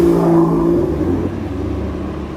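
Aston Martin sports car, one of a group of exclusive Speedster and V12 Zagato models, revving with a deep, loud engine note that builds briefly and then settles into a steady rumble.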